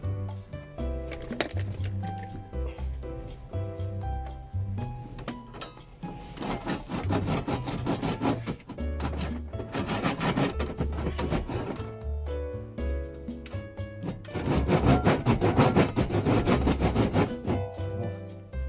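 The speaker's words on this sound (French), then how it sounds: "je vais commencer avec une égoïne pour voir si ça le fait" Hand saw cutting through a camper van dashboard, with rapid rhythmic rasping strokes in bursts of varying intensity, loud and close, with a musical tone running underneath.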